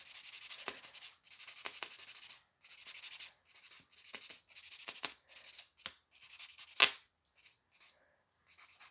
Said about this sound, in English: So much buffing today.